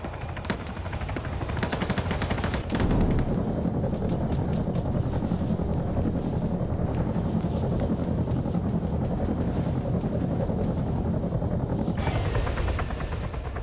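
In a video game, a helicopter's rotor thrums loudly and continuously overhead while bursts of rapid machine-gun fire crackle in at the start and again near the end.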